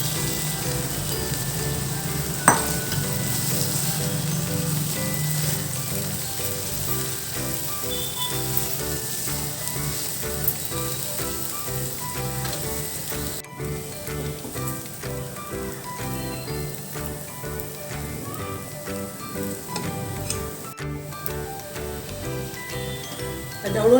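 Poha flakes sizzle and fry in a hot pan while being stirred, a steady close crackle with occasional scraping and clinks of a spoon against the pan throughout.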